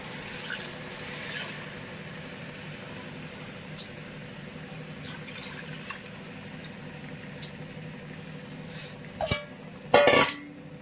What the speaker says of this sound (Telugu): వాటర్ పోసేస్తున్నామండి.